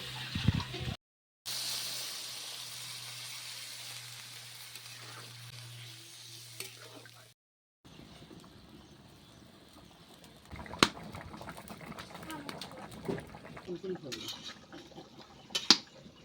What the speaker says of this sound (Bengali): আলুর সাথে মশলাটাকে ভেজে নিয়েছি, জল দিয়ে দিব।